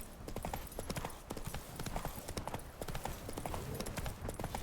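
Horse hooves clip-clop in a quick, steady trotting rhythm in The Witcher 3, close and clear with no talk over them.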